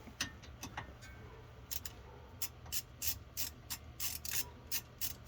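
A ratchet clicks in quick bursts of sharp, close ticks with brief pauses between strokes, tightening the 21 mm caliper bolts on a 2004 Dodge Ram 1500 during a front brake job.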